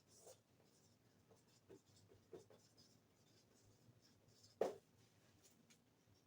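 Marker or chalk writing on a classroom board during a vector maths lesson, heard as faint scratchy strokes in scattered short bursts, with one sharper tap near the end, quiet and close.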